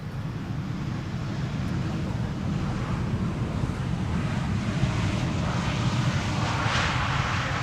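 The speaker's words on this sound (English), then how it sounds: "Beautiful Bombardier C-Series 300, Croatia Airlines flight 450," A Croatia Airlines Bombardier C-Series 300 lands at Amsterdam Schiphol runway 18R with a broad, steady engine rumble that swells slightly toward the end and has a windy, surf-like texture, with no voices over it.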